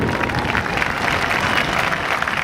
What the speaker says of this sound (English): Let's give Amy a round of applause